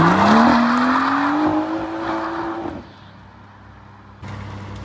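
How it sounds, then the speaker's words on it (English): A car drifts with only one wheel spinning: a loud rising engine whine and tyre squeal carry for a few seconds, then drop to a low rumble before a fresh surge of noise near the end. "Only one wheel spinning. That's why it's letting you go sideways."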